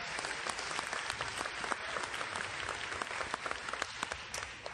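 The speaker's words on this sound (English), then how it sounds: "So big round of applause for our host today." A room of attendees at a rollercoaster enthusiasts' presentation applauds their host, dense and continuous clapping at moderate loudness that holds steady for the whole stretch without a pause.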